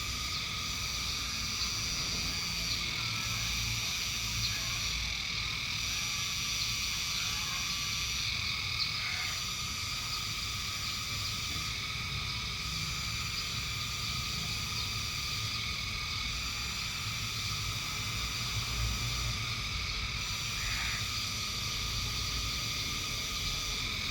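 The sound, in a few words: crickets chirping in the countryside in late afternoon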